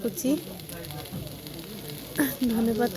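Prawn curry sizzling in a pan with garam masala just added, being stirred with a spatula: steady frying hiss with a few scraping strokes, and a voice talking in the background.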